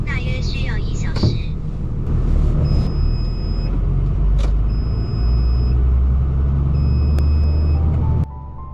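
A truck sets off on an early Sunday morning drive along quiet roads, its engine a steady low rumble. A repeating electronic beep and a brief voice sound over the engine noise.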